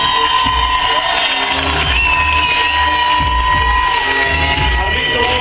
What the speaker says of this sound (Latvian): Iedosim viņam aplausu.